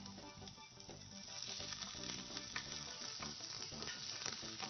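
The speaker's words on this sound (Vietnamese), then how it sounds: "Khi mà chảo nóng rồi đó thì mình sẽ cho dầu phi thơm cái hành ba rô này." Chopped leeks fry in hot oil in a pan for vegetarian fried rice, giving a steady, dense sizzle with crackling pops throughout and no talk.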